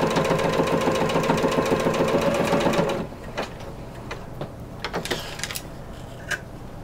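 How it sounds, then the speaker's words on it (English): A sewing machine stitches corset bone casing tape with a fast, steady mechanical clatter for about three seconds, then stops, leaving faint handling clicks and rustles. "I'm now sewing my seam"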